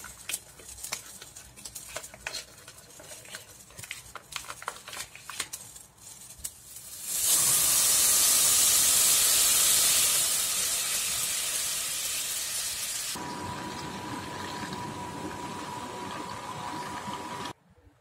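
Two packs of unsalted butter, 500 grams, dropped into a pan over medium heat for homemade ghee, bursting into a loud steady sizzle that gradually softens to a gentler, continuous bubbling hiss after some earlier handling clatter.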